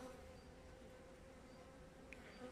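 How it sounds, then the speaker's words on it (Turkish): Faint, steady buzzing of bees flying about in mid-January in Adana, Turkey, a low continuous drone with a brief sharper buzz passing near the end. "arı uçuyor."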